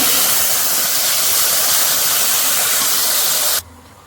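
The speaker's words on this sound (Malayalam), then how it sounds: "ഇനി നമുക്കിതിലേക്ക് വെജിറ്റബിൾ ആഡ് ചെയ്ത് കൊടുക്കണം" Mixed vegetables tipped into hot oil with popping mustard seeds and dried red chilli for an Onam sadya kootu curry give a loud, steady sizzle and hiss that runs for over three seconds, then cuts off abruptly.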